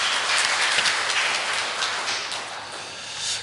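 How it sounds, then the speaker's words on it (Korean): A church congregation gives a big round of applause for a women's choir at a Sunday service, a continuous, hissing wash of many hands clapping together that stays even and fairly loud throughout. "큰 박수 부탁드립니다"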